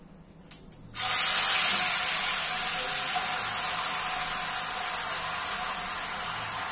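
Cumin seeds, bay leaf and a ground spice paste tipped into hot oil for a chicken curry: a few small clicks, then a sudden loud hiss that holds steady and slowly eases.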